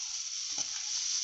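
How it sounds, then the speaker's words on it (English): Oil frying in a pan on the stove at the start of an Indian stovies dish, a steady, even hiss that runs unbroken throughout with a faint low stir or knock near the middle. "We're going to start by frying."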